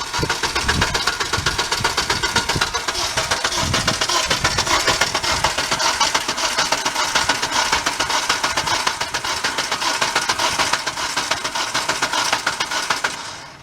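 A 2008 Honda Civic with about 191,000 miles cranks as it tries to turn over, a loud continuous rough mechanical whirring and chugging with a rapid pulsing rhythm that carries on steadily without catching.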